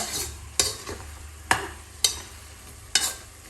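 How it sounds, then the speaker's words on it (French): Smoked cartilage sautés in a little oil for a peanut paste dish, a soft steady sizzle broken by about five sharp spatula scrapes against the pan. "Je vais les faire revenir comme ça légèrement pendant 2 minutes"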